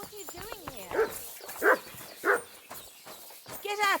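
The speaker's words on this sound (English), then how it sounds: "No one wants to hear your barking." Dog barking in the video game Kingdom Come: Deliverance 2, three or four sharp close barks spaced about half a second apart, mixed with someone speaking.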